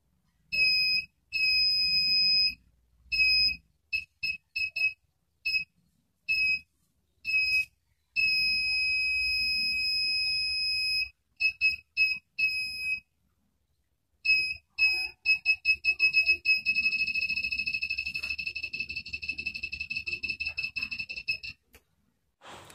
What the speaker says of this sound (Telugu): చూసారు మన లేజర్ లైట్ అలారం ఎలా ఉందో ఫ్రెండ్స్